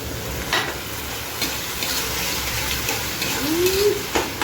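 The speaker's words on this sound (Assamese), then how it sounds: "কঁঠালৰ গুটি ভাজি হৈ আছে।" Jackfruit seeds fry in a pan with a continuous close sizzle, broken by several sharp stirring scrapes and clinks of a utensil against the pan.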